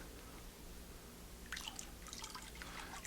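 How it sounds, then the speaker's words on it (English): Calcium chloride solution poured into raw milk for farmhouse cheese, a brief close trickle and splashing of liquid starting midway after near silence. "So we're going to go ahead and use the calcium chloride and pour that in."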